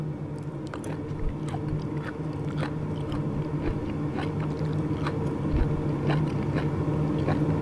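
Close-up crunchy chewing of sliced beef tongue steak, with repeated crisp bites and mastication, steady throughout and heard alone without talk.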